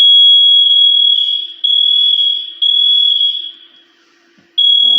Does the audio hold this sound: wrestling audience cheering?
no